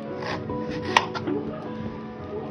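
Knife chopping ridge gourd on a board, with a few quick close cuts and one sharper knock against a steady low background hum.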